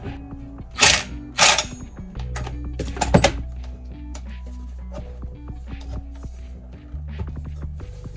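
A tool loosens the mirror mount on a bus conversion, giving a few sharp metallic clanks and knocks followed by low intermittent creaks and rattles, close and without talk.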